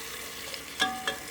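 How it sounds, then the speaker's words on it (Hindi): Ginger and garlic paste fry with golden onions in a pan, giving a soft, steady sizzle broken by two brief scraping stirs of a spoon. "अदरक लहसुन के पेस्ट को भी प्याज के साथ हम भून लेंगे 2 से 3 मिनट के लिए"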